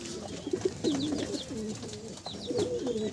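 Several Madrasi pigeons kept for tournament flying coo close by in Nadia, their soft rolling calls overlapping in a steady, continuous murmur with faint higher chirps in the background.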